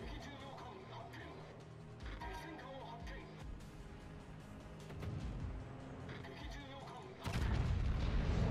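Warship gunfire in World of Warships, deep booming artillery salvos over a constant rumble, with a heavy low roar building at the end and a voice talking over it.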